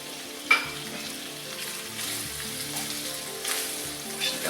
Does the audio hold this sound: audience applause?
no